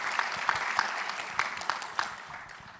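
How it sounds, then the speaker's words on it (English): An audience at an innovation competition final claps steadily, a broad wash of applause with a few sharper individual claps standing out, no voices over it. "we have a big round of applause for him,"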